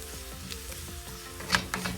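A Kerala moru curry tempering frying in oil, a faint, soft crackle with scattered small pops and a couple of sharper spits near the end, close by and quiet.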